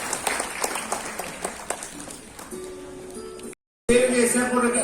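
Audience applause at an award and felicitation ceremony, a ragged patter of clapping from a crowd that thins out, followed by a short gap and then amplified speech.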